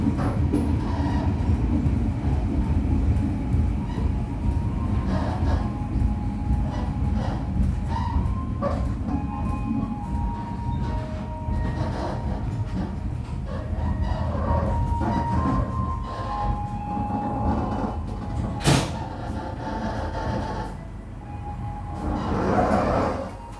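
Argo Merbabu passenger train running on rails between Jakarta and Semarang, heard from inside as a steady rumbling roll with clicking wheels and occasional brief squeals, continuous and fairly loud.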